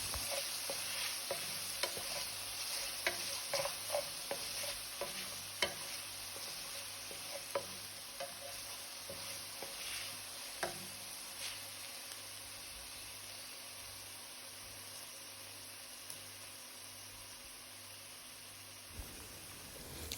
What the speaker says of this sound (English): So I'm going to saute the seasonings for at least 1 to 2 minutes on low flames.